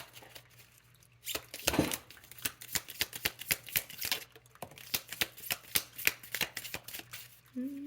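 A deck of affirmation cards is shuffled by hand, making close, crisp riffling and flicking clicks in quick irregular bursts over a faint low background hum.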